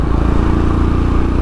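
A Royal Enfield Himalayan motorcycle engine runs on a biking ride, giving a loud, steady, thumping rumble with a throbbing low pulse throughout and no talk.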